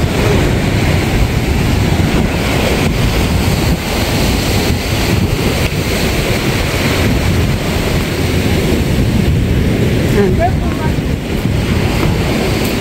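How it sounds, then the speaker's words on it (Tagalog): Ocean waves at Sandbridge Beach in Virginia Beach, heard as a constant loud roar of surf mixed with heavy wind rumble on the microphone, steady throughout with no distinct breaks. "Grabe ang alon."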